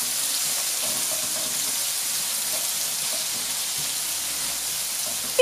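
Thinly sliced onions, with one or two pressed garlic cloves, frying in a pan give off a steady, close sizzling hiss with no talk.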